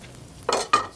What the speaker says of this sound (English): Now we're going to take our rockfish. That sizzling sounds really good.